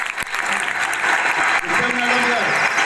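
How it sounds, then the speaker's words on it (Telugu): Audience at a school parent-teacher meeting in Tallarevu applauds loudly and steadily, with dense clapping filling the whole stretch and voices faintly mixed in. "క్లాప్ కొట్టండి, క్లాప్ కొట్టండి"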